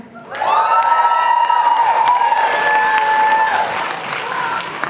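Students at a high school poetry slam break into loud cheering and applause, with high shrieks and whoops riding over clapping that stays strong for several seconds.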